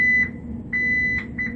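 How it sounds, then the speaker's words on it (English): An electronic building security alarm keypad beeps after entry, giving three sharp high-pitched tones of varying length over a low background hum. "now that I came in and set the alarm off, I got to make sure and check it"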